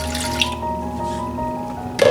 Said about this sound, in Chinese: 所有的温水都倒进来